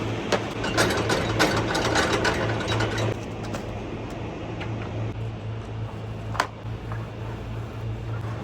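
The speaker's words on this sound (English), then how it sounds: "Let me go ahead and get to throwing these straps real quick." Ratchet straps are cranked tight over a lumber load on a flatbed truck, giving a string of close, sharp clicking pawl strokes over a steady low engine hum, with one loud clack near the end.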